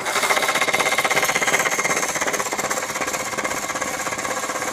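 The motor of a homemade 3/8-inch drill press runs with a fast, steady mechanical chatter and whine, loud and continuous without pauses.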